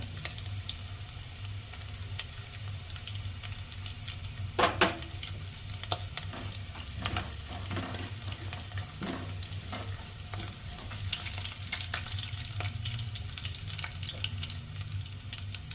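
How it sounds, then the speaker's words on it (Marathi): Mustard seeds and cumin dropped into hot oil for a spicy matki bhaji, a continuous crackling sizzle with scattered pops and a few stirring clatters, no talking. "आता ह्यामध्ये आपण राई आणि जिरं टाकून घेऊया."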